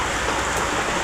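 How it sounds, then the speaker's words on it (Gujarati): Heavy rain pours down in a dense, steady hiss of drops on surfaces, loud and unbroken, with no voices. "અમારે આજે વરસાદ છે જોરદાર"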